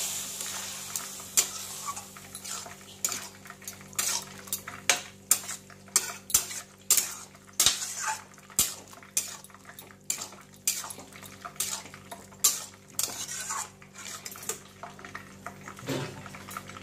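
Boiled potatoes and peas stirred into masala in a pot for dahi bara aludum, with a steady run of clinking, scraping spoon strokes against the metal, close and fairly loud, with no talk.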